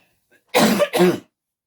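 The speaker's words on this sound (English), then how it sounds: "Even that cough didn't get rid of it." Two loud, close coughs in quick succession, harsh and breathy, with silence before and after.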